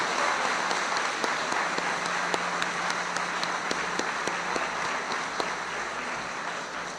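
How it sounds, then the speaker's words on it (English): A high school graduation crowd claps for parents and families, a dense and continuous round of applause with a faint hum underneath. "Seniors, please stand with me and applaud our parents and families, thanking them for all they have done to support us."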